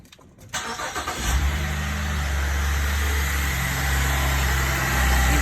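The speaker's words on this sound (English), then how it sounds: "Get in the car and start it." A Chevy Traverse with a check engine light on and a bad purge solenoid cranks briefly, catches and settles into a steady, close idle with a low continuous hum.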